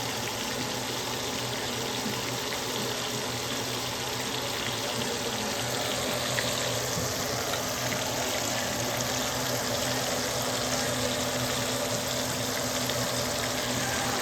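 Steady, dense sizzling and crackling of pork chops frying in a pan, continuous and fairly loud throughout, with no talking.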